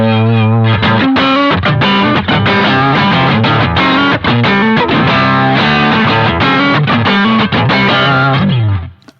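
Distorted electric guitar chords through a Boss GX-1 multi-effects processor ring out continuously through layered effects, thick and loud, then cut off abruptly near the end.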